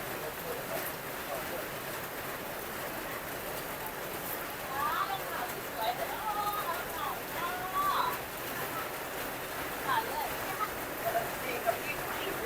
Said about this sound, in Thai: ท่านผู้ชมครับฝนตกครับผมฝนตก